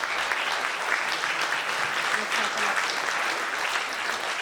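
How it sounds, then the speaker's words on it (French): An audience at a film festival applauds volunteers, many hands clapping in a dense, continuous roar that holds level for several seconds. "Je veux qu'on les applaudisse tous ces bénévoles."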